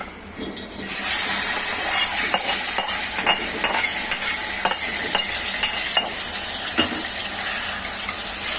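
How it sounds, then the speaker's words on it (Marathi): Steady sizzling and frying as chicken is sautéed with onions in a pressure cooker, with stirring scrapes and occasional clinks throughout; no voices. "आता त्याच कुकरमध्ये आपल्याला हे चिकन घालायचं आहे."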